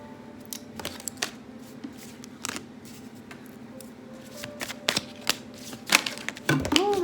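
Tarot cards are shuffled and flicked by hand, producing a run of sharp, irregular papery snaps and clicks close by, growing busier toward the end, with no talking.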